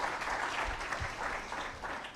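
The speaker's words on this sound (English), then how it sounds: "Let's give a big clap to Mr. Baluku once again." Steady audience applause at a national wildlife conservation conference, dense clapping from a sizable crowd filling the room at an even level throughout.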